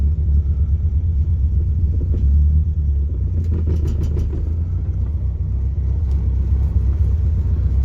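A Toyota Corolla with a replacement engine drives slowly around a backyard, a loud steady low engine rumble heard from close by with faint rattles over it.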